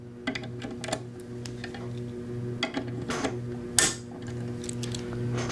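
Torque wrench tightening the screws on an FN SCAR rifle to 62 inch-pounds, heard as small close ticks and clicks scattered through a steady mechanical hum, with one sharper clack near the end.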